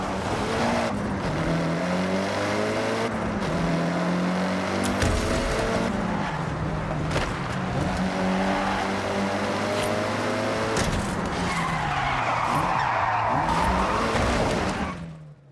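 A car is driven off-road in the racing game Forza Horizon 6, its engine droning steadily throughout with shifting pitch, tyre noise and skidding, and occasional bumps and clunks cutting in.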